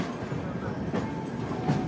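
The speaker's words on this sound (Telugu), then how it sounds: "అటు సైడ్ నుంచి అజ్మీర్ సోలాపూర్ బండి అయితే వెళ్ళిపోతుంది." The Ajmer–Solapur special train rolls past nearby with a steady rumble and repeated clickety-clack of wheels over rail joints.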